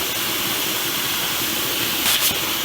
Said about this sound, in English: I think you can see that there's steam coming out of here. It's a pretty steady stream of steam.